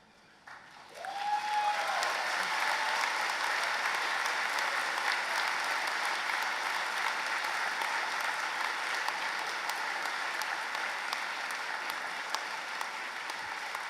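Graduation ceremony audience applauding, a large crowd's sustained clapping that swells in within the first second and stays dense and steady throughout in a big hall.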